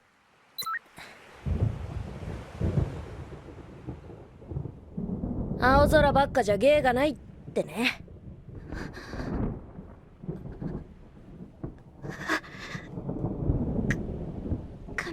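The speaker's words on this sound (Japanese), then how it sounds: "雷は嫌！" Thunder from artificially generated weather at a man-made beach, low rolling rumbles with bursts of crackle, mixed under sci-fi chimes and beeps while people speak over it.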